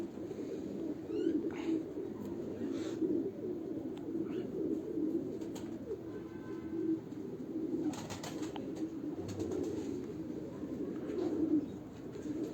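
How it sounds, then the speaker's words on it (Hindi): Low, soft cooing of pigeons rolls on continuously, close by, with a few faint chirps and rustles mixed in. "कामयाब कबूतर का नाम है टेढ़ी"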